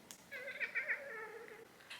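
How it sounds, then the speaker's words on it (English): A soft, trilling chirp from a cat, a short warbling call lasting about a second, quiet and close with no other sounds. "Could you guys hear my cat chirping?"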